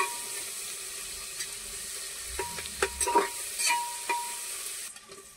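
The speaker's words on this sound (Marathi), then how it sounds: "झाला सगळा मसाला फ्राय करून बघा." Masala fries in a pan for masale bhat, a soft steady sizzle broken by several stirring scrapes and clatters in the middle stretch, close by with no voices.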